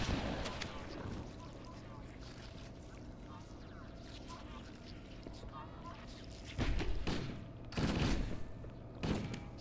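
Gunfire in the first-person shooter Halo: The Master Chief Collection, on the Library level, comes as rough bursts and rumbling blasts over a continuous low roar, with a player talking throughout.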